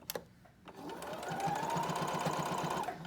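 A sewing machine starts up and runs steadily, stitching a fleece hat with a fast even mechanical whir, close and moderately quiet.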